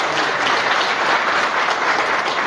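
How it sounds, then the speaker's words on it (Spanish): A crowd applauds steadily at a presentation of candidates for sports-league godmother in El Guabo, a dense, even wash of clapping that holds for the whole stretch with no voice over it. "Yo quiero que lo aplaudan a nuestro patrono de esta edición 21."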